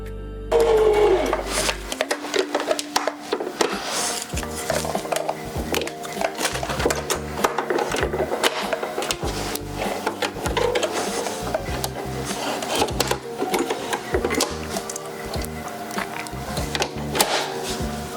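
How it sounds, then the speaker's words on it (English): A sewing machine running steadily, its loud, rapid mechanical stitching rattle continuous and close, with a brief electronic tone at the start. "Let's get into sewing, and I'm probably gonna switch to voiceover because sewing is very loud."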